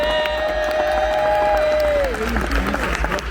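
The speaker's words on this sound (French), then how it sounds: "On l'applaudit bien fort, monsieur David Kruger." Convention audience applauding and cheering for voice actor David Kruger, a steady wash of clapping and crowd noise under a sustained tonal sound that fades partway through.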